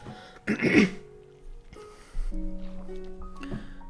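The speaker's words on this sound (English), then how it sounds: "Sorry, I need to clear my throat." A single throat clearing, a short rough burst of breath and rasp, followed by quiet low hums and faint shuffling.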